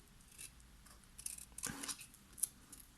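Scissors snip through paper while a small card pocket is shaped, giving a few crisp, separate cuts over a quiet background.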